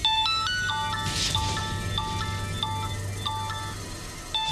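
A mobile phone rings with an incoming call, a repeating electronic melody of short bright beeps in a regular pattern over steady background noise.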